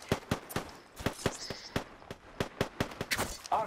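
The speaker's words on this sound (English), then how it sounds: "Getting shot at." Distant, fairly faint gunfire in Apex Legends, a scattered run of quick single cracks and short bursts at an uneven rhythm.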